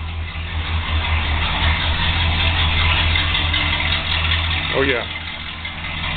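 A 1971 Chrysler 300 idles in the back half of a garage with a steady low rumble, loud and close throughout, while someone speaks briefly over the engine.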